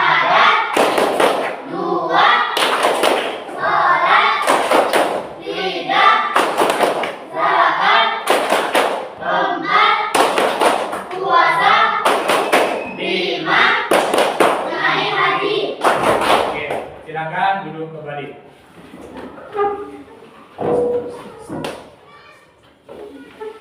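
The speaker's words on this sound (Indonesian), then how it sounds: "kita tepuk Islam terlebih dahulu" A classroom of students performs Tepuk Islam, a chanted rhythmic clapping routine, with loud sharp claps in regular groups alternating with a teacher's voice and the class chanting, the clapping thinning out near the end.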